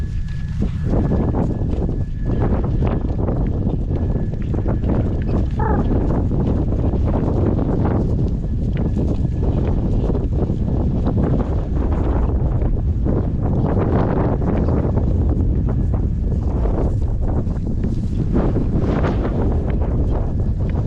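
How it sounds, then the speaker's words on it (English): Gale-force storm winds roar without a break for about twenty seconds, loud and close, with heavy buffeting on the microphone and surging gusts. "It's another windy day, imagine that."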